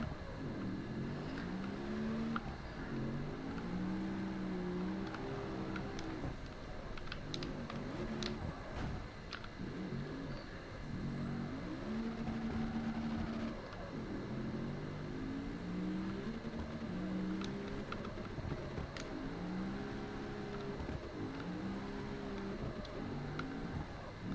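A car engine revving in the CarX Street racing game, a steady droning roar with repeated rising and falling pitch sweeps as it accelerates and shifts through a drift run, loud and continuous with no talk.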